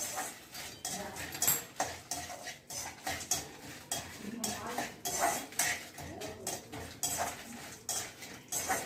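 Dal and coriander seeds dry-roasting in a pan for sambar, with busy rattling and scraping of a spoon against metal that is loud and continuous, and no voices.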